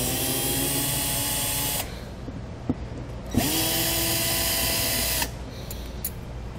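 A power drill-driver spins out screws from the perimeter of a MaxxFan Deluxe roof vent in two sustained whirring runs, each winding down, with small clicks between them.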